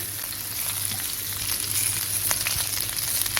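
Steady hissing sizzle of onions frying in hot oil, close up, with a few soft crackles and no voices.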